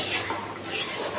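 A spoon stirs and scrapes through a mixture in a pot in a home kitchen, giving a steady close clatter and scrape with no talking.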